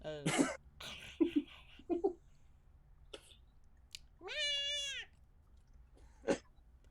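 A pet cat named Jetson meows in a room, with one long, clear, rising-and-falling meow near the middle and several shorter cat calls and throaty sounds around it. No one speaks.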